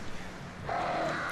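Attacking birds in Alan Wake give a sudden harsh caw partway through, over a low rumbling game ambience, fairly faint.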